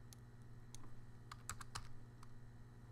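A value being typed on a computer keyboard during CAD modelling, a short run of faint, close key clicks in quick irregular succession with no talking.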